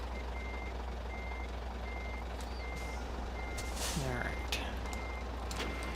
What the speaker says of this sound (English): it'll work with this truck, and then I can get it backed up the way I want it